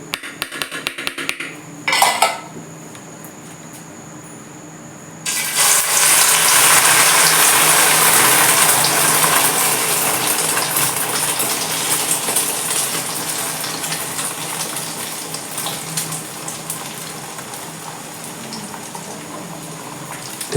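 Omelette egg mixture poured into hot oil sets off a sudden loud, bright sizzle. The sizzle holds steady and wide, easing off only slightly after a quiet opening with one brief splash.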